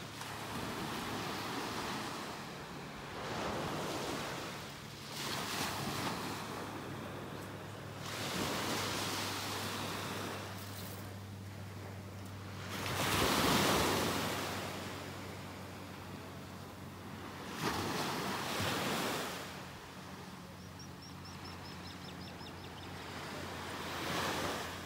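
Ocean surf rolling onto a beach in North Naples, Florida, with several swelling wave surges washing in over a steady roar, carried on a breezy wind with no talking.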